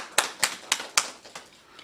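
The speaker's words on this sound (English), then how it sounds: "I earnestly believe that you are deserving of a hearty round of applause" A handful of sharp, separate hand claps at a COVID-19 press briefing in St. Kitts and Nevis, about four evenly spaced slaps that trail off into faint, scattered claps, quiet and without talk.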